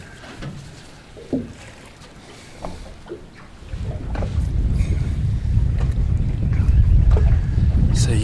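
Strong wind over the sea on a small boat fishing for snapper in roughly 20 knots, at first quiet with a few faint knocks, then a loud, steady low roar of gusts buffeting the microphone from about the midpoint onward.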